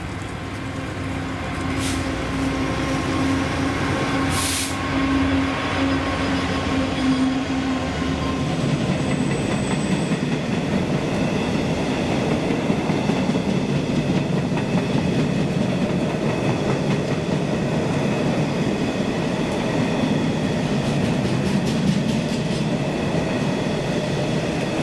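Freight train 4N30 from Mossend to Grangemouth hauled by Class 66 locomotive 66076 passes at Camelon, a loud diesel rumble building into a long steady roar of wagons with rhythmic wheel clatter, a brief horn early on.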